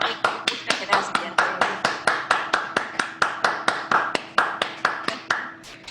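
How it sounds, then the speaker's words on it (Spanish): Applause during an online conference on conscious voice development: a steady run of sharp, evenly spaced hand claps, close and fairly loud, with no talking over it. "Aplausos, por favor."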